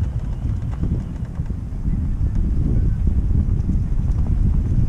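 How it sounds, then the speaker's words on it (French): Strong wind buffets an outdoor microphone near an anchored boat, a dense low rumble that swells slightly louder partway through and holds steady, with no talk. "Bon, le vent là il souffle pas mal."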